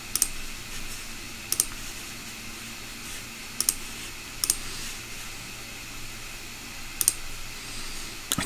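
Computer mouse clicking at a desk: sharp, quiet clicks in small pairs and clusters, scattered irregularly over a steady fan hum, with no talk.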